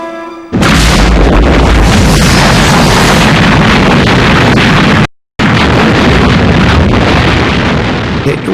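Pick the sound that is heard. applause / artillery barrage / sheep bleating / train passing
artillery barrage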